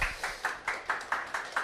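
An audience at an accounting-exam academy information session claps for the instructors, eight evenly spaced sharp claps at a steady rhythm, fairly close and moderately loud.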